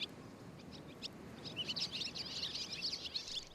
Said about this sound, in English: there's a restless mood amongst the swallows that have spent summer nesting in the whiskey distilleries